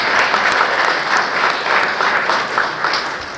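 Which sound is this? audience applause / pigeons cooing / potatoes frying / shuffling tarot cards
audience applause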